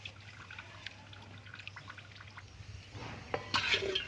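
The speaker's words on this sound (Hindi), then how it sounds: "इसके अंदर यहाँ पानी डालना है।" Water is poured into an open-well submersible motor sitting in a tub, faint trickling and dripping in a quiet room, growing into a fuller splashy pour near the end.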